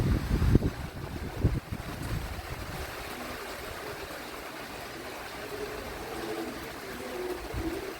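Strong wind gusting through a rainstorm around a house with unlatched windows and a balcony, a steady broad roar with heavier buffeting thumps near the start, carrying on continuously without voices.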